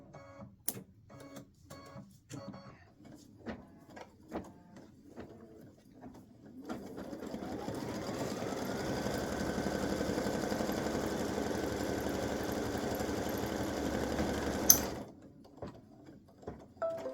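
An embroidery machine stitches an appliqué for an elf hat and legs design on a t-shirt or sweatshirt, a steady mechanical whir with a rising tone lasting about eight seconds. It follows a few soft taps and cuts off abruptly.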